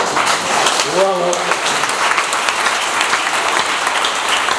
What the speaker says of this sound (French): Et applaudissez-vous.